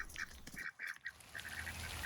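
Ducks quack repeatedly at close range outdoors in snow, a few nasal calls coming in short bursts with brief pauses between them.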